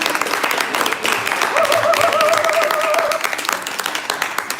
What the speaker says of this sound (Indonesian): Beri tepuk tangan dulu sebelumnya.